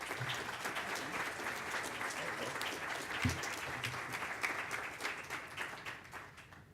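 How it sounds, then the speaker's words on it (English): Audience at a Long Beach city budget presentation applauds the city manager with steady, moderately distant clapping that holds for several seconds and tapers off at the end. "let's give him a big round of applause for everything"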